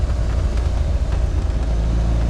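An Indy RX-5 160 with a track day silencer rasps along on the road, its exhaust a loud, continuous low drone heard from inside the car, with no break across the short stretch.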